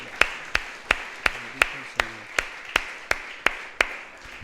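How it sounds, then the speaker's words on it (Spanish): A church congregation claps in strict unison, producing a steady beat of sharp, evenly spaced claps about three per second that carries on without pause. "Le damos un aplauso al Señor"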